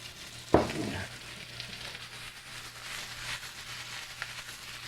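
Steak hash frying in olive oil in a pan, a sharp clatter near the start followed by a steady, quiet sizzle that carries on throughout with no voices.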